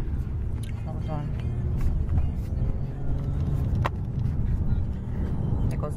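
A car drives along, heard from the passenger seat as a continuous low road and engine rumble, with people chatting and calling out over it throughout.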